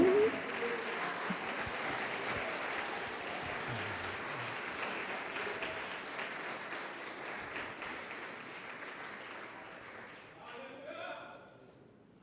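Church congregation clapping in praise during a sermon, a long, dense roar of applause from a large crowd that holds steady, then thins and fades near the end as voices begin to emerge.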